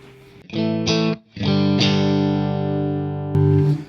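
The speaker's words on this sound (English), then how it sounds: "Here's channel 1 in the regular mode, which is more, I guess, deluxe reverb." An electric guitar plays through a Fender Super-Sonic 22 amp on channel 1 in regular mode with reverb, giving a few strummed chords that ring out and sustain, then one last chord.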